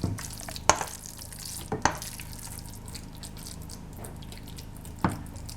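A yogurt carrot salad being stirred in a bowl, soft wet mixing with a few sharp spoon clinks against the dish, quiet and close.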